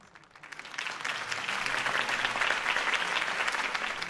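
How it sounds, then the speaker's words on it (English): A crowd applauds after a mayoral campaign speech in the Batman Telltale video game. The clapping swells within half a second into steady, dense applause that lasts about four seconds. "If only Mr. Wayne, my campaign's largest backer, could have heard that applause"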